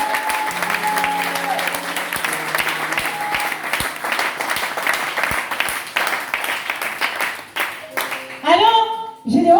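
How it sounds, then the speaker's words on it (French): A church congregation applauds and cheers together, a dense steady wash of clapping with musical tones and voices underneath, fading toward the end as the preacher speaks again. "Est-ce qu'on peut acclamer pour Jésus?"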